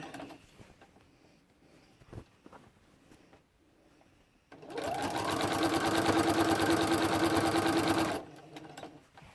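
A sewing machine stitches quilt binding in one steady run of about four seconds, close and fairly loud, with quieter handling clicks and rustles of fabric before and after.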